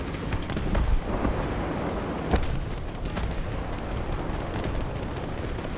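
Tank cannon fire in War Thunder, a Matilda III match: one sharp, heavy report about midway through, over a steady rumble of engine and battlefield noise, with no voices.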